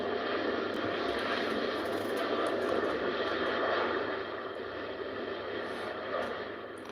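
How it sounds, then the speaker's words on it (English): Jet airliner on its takeoff roll at Heathrow Airport, a broad sustained engine roar heard from a distance, steady and then easing slightly near the end. "See what takeoff we get, shall we?"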